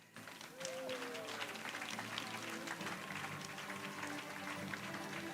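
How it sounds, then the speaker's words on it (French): Crowd applause for athletes at a European coastal and beach sprint rowing championship, a steady wash of clapping sustained throughout with a public-address voice and a brief whistle-like tone at the start. "Let's have a final round of applause for all our athletes."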